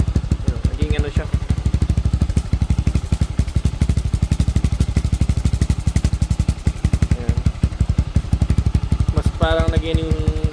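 A Motorstar Star X 175 motorcycle with a freshly repacked muffler and new fiber idles close by, its exhaust a fast, steady, thumping pulse with a voice talking over it at moments.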